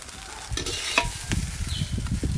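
Egg rice is mixed in a pan with a close, continuous scraping and stirring that swells midway, a spatula knocking lightly against the metal over a soft sizzle, with no talking.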